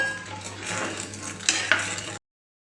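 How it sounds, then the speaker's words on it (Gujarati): Cornflour and cocoa mixture is stirred into heated milk in a pot for hot chocolate: a steady close scraping swish of the spoon with a couple of sharper clinks near the end, then it cuts off. "હવે આપણે જે દૂધ ગરમ કરવા મૂકેલું એમાં આ ઉમેરી દઈશું અને આપણે હલાવતા રહીશું સતત"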